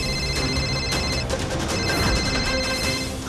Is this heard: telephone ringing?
yes